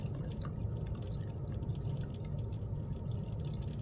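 Vinegar drains through a looping pipe as a low, steady, continuous wash of flowing liquid with faint drips, constant in level throughout.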